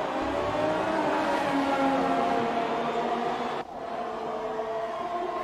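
Formula 1 race cars howl at high revs in F1 2018, with Raikkonen's Ferrari and Ricciardo's Red Bull close together. The engines scream steadily, then the pitch drops sharply as one car lifts off or shifts.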